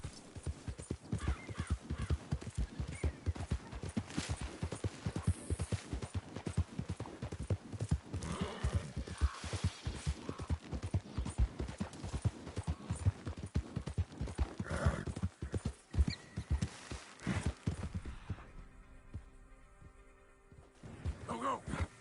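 Horse hooves clip-clop steadily and close in Red Dead Redemption 2, a rapid, continuous gallop rhythm that runs for most of the stretch with an occasional whinny, then thins out near the end.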